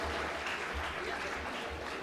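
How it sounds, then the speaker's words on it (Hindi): Audience applause at a Hindi comedy poetry gathering in Balod, Chhattisgarh, heard as a dense, steady wash of clapping that holds through the whole short moment without any break. "आपकी जोरदार तालियों के साथ"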